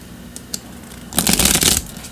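A deck of tarot cards being shuffled by hand, a couple of faint taps followed by a quick riffling burst of papery flutter, close and clear, without talk.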